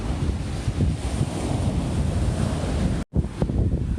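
Strong, steady wind roars and buffets the microphone on a cold UK beach, with a low rumble of surf underneath and no voices.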